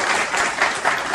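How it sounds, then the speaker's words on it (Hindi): Students applauding together in a classroom at the end of a five-day CPU component course, a steady, dense burst of clapping with no voices. "एक बार आप अपने लिए जोरदार ताली बजाइए"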